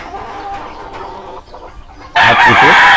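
A rooster crows loudly and close, a single full cock-a-doodle-doo bursting in after quieter outdoor farmyard ambience.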